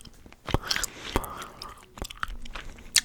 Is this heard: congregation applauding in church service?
no